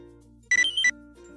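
A phone gives a short two-note ringtone chirp. It lasts under half a second and sits alone over a low, steady hum.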